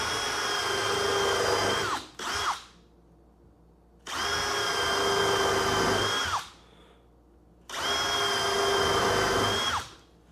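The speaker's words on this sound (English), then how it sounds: "and drill straight into the part" A cordless power drill whines loudly in three separate bursts as it drills into a part, each holding a steady high pitch before winding down, with short pauses between.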